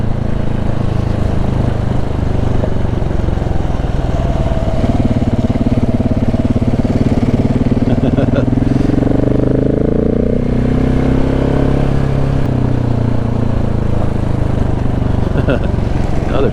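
Steady single-cylinder engine drone of a KTM 690 Enduro R motorcycle on an afternoon trail ride in the Oregon Coast Range, continuous and fairly loud with rising and falling pitch as the rider throttles, with wind noise.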